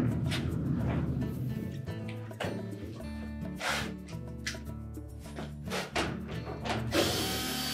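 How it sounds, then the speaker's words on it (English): A tool backs out 1/4 inch hex-head screws from the console of a GE washer, giving steady mechanical ratcheting and whirring for several seconds, close and fairly loud, with small clicks and knocks between turns. "So we'll begin by removing the 3 screws on the console."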